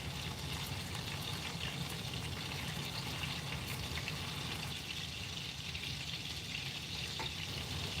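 Meatballs sizzle steadily while frying in a pan, a dense, even crackle of hot fat held close and loud for the whole stretch, with no talk over it.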